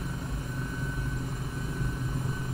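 A helicopter in Microsoft Flight Simulator, a steady droning rotor and engine hum with a low pulsing thrum, continuous and fairly loud without talk.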